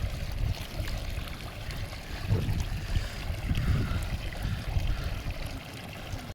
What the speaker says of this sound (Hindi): ये हॉट स्प्रिंग का पानी आ रहा है